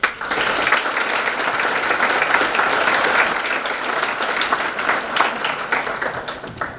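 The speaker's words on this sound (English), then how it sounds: "let's have a big round of applause for all of our parents" Audience applauding parents at a 2019 National Honor Society induction ceremony, sustained dense clapping from a large crowd in a hall, steady then tapering slightly.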